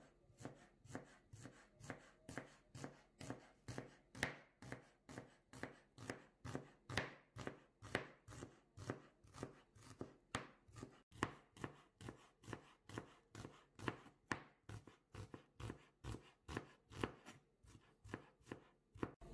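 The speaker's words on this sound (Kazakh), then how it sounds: "Енді пиязды майдалап турап аламыз." Onion being finely chopped with a knife: quick, evenly spaced sharp chops repeat steadily, dozens of strokes at close range with no talk.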